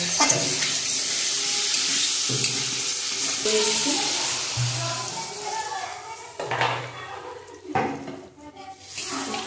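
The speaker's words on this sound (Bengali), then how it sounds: "জল দিয়ে দিয়েছি, একটু ঢাকা দিয়ে দেবো।" Water is poured into a pan of frying kohlrabi and fish curry, giving a hissing sizzle broken by knocks and scrapes of a spoon against the pan, close by.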